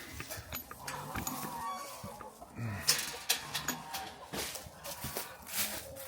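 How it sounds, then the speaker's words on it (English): Goats and other farm animals bleat sporadically at a working farm at the end of the day, faint and somewhat distant, with scattered rustling and thumps. "Go get a goat."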